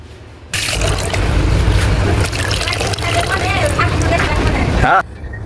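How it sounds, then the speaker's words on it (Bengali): Chopped radish greens are washed in water, with splashing and swishing sounds that start abruptly and continue steadily, and a voice speaks under the sloshing. "এই শাকটা আমি এখন ধুয়ে নেব।"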